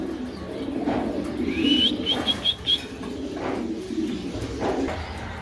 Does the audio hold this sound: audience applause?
no